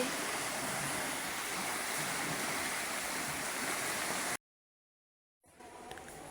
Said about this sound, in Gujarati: કેટલો મોટો ધોધ પડે છે